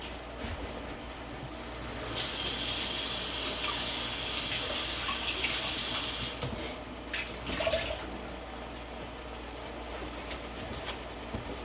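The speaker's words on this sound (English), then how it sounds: "let me rinse this off so I can put my spoon in there" A kitchen tap runs while a spoon rest is rinsed under it, a close, steady hiss of flowing water that swells louder for about four seconds in the middle before easing back to a softer trickle.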